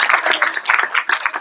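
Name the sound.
applause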